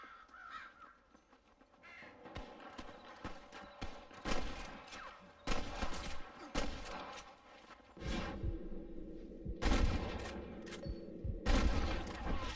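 Gunfire from a shootout with rustlers in the Red Dead Redemption video game: sharp, loud shots in scattered bursts over a busy background with cawing crows and horse hoofbeats.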